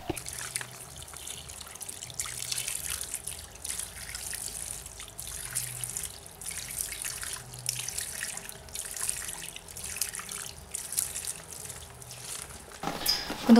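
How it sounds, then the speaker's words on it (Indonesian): Water poured onto a freshly planted curry leaf plant in soil, a steady soft trickle running throughout at moderate distance with no talk. "Langsung akan saya siram dengan air."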